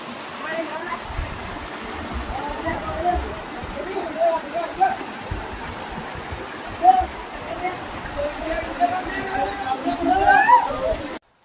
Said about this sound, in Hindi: यहाँ से झरना बहता है और 400 फुट वो झरना यहाँ से